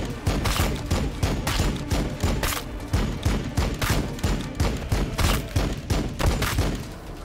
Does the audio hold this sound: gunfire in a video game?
yes